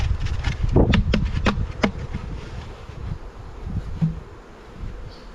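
Dense swarm of honeybees buzzing loudly and continuously during a robbing attack on the hives, with individual insects zipping close past and a few brief knocks.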